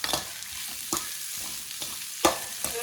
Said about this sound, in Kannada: ಶುಂಠಿ ಬೆಳ್ಳುಳ್ಳಿ ಪೇಸ್ಟ್ ಎಲ್ಲ ಹಾಕಿ ನೀಟಾಗಿ ಫ್ರೈ ಮಾಡಿಕೊಂಡು